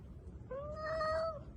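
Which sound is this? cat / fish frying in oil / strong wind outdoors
cat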